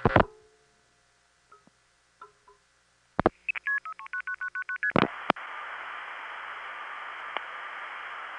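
Touch-tone telephone dialing on a 1976 long-distance line: a few isolated faint tones, then a quick run of about ten crisp dual-tone beeps, followed by a loud, steady line tone that holds to the end.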